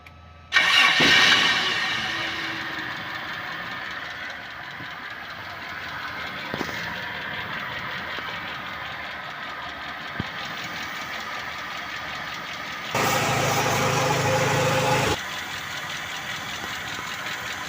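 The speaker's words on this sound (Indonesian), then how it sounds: "Kita sementara ngidupin mesin dulu ya." A Toyota Kijang engine, freshly refilled with oil and radiator coolant during a power steering conversion, cranks and catches, then settles into a steady idle with a brief louder rev partway through; no voices.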